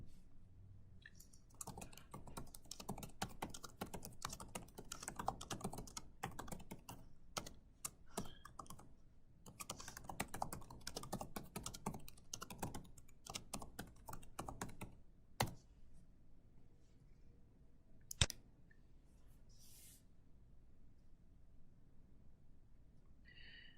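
Fast, steady computer keyboard typing of resolution notes into a freight dispute form, rapid close clicks in dense bursts that pause twice, followed by a few isolated key taps near the end.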